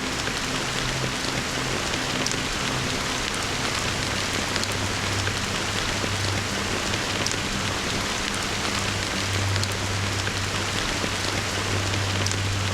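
Steady rain pours down in the video game Honkai Star Rail, a dense, even hiss that runs without a break, with a low hum beneath and no voices.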